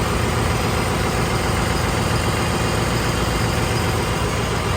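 A diesel generator in a ship's engine room runs under a performance test, giving a loud, unbroken, dense mechanical roar with no change in pitch or level and no voices.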